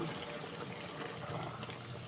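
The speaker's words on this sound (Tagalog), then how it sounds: "Lalagay na natin yung pinakahuling gata natin." Coconut milk pours steadily into a cooking pot of tuna stew, a continuous liquid splashing and trickling sound that stays close and even throughout.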